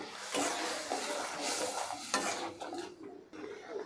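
Hilsa fish head frying in a pan with spices while being stirred, a steady close sizzle with scraping spoon strokes and occasional clinks of the pot throughout.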